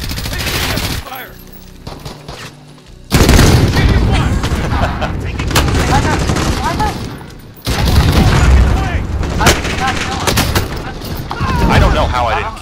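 Heavy gunfire in Modern Warfare during a large 200-player match, loud bursts and rapid automatic fire that drop off briefly and then return with sharp cracks, with voices talking over parts of it.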